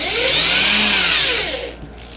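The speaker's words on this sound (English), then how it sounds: "I have my drill same size as the dowel, and I'm just going to drill in" A power drill bores a dowel-sized hole into a scrap piece of wood, whining steadily and loudly for about a second and a half before winding down.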